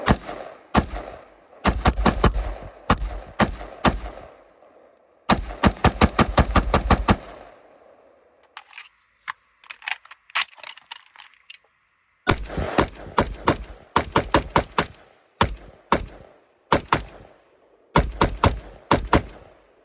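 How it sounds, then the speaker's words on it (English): A rifle emptying 20 rounds from a Vietnam-era Colt magazine at an outdoor range; loud, close shots fired in quick strings and bursts with short gaps between groups, each crack ringing briefly, no talk. "I'm gonna dump 20 rounds."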